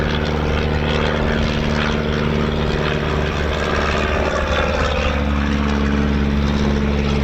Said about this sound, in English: Just get a little bit of that Chipmunk there, look.